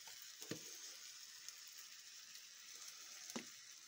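Pelmeni dumplings fry in oil in a skillet, giving a soft, steady sizzle with a few light clinks and pops, quiet and continuous with no talking.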